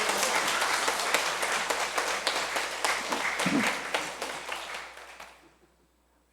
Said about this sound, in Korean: 힘찬 박수 부탁합니다.